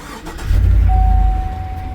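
A traded-in Cadillac Escalade's engine cranks and fires up, a loud low rumble surging in then settling to a steady idle, with a thin whine running beneath.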